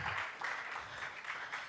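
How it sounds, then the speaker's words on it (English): Steady applause from a summit audience, dense clapping that swells and holds throughout without any speech. "A round of applause for her one more time."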